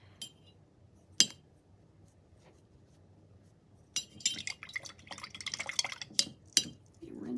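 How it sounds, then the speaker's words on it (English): A small paint brush being rinsed in a water container while painting a St. Patrick's wagon decoration, with faint clinks, taps and swishing water, quiet and intermittent. "Rinse my little brush out here."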